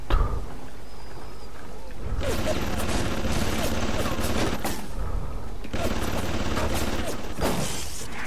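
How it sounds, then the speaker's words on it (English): Rapid bursts of gunfire in the first-person shooter BioShock, loud and dense from about two seconds on with brief gaps, heavy and close, with some crashing impacts mixed in. "Yeah, I'm shooting them with a gun."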